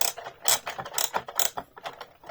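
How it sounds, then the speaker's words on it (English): Toy Ghostbusters Ecto-1 car's plastic wheels ratcheting as they refuse to roll, a rapid series of close, crisp clicking bursts repeating unevenly with no talk. "wheels seem to be ratcheting and won't move"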